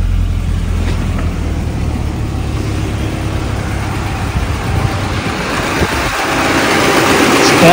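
A car engine idles after a jump start from an OXILAM jump starter, a steady low rumble close by that swells slightly louder toward the end, with a faint voice in the background.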